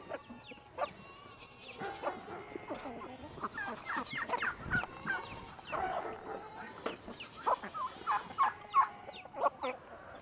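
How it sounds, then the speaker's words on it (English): Chickens cluck and squawk in busy, overlapping bursts around a feed trough, close and fairly loud, with a few sharper calls standing out. "Are the chickens not going to let y'all eat?"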